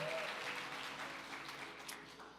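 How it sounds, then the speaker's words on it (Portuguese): Church congregation applauding during a Portuguese-language sermon, a dense steady wash of clapping that holds fairly level throughout and fades slightly toward the end. "Você pode dar um aplauso ao Senhor?"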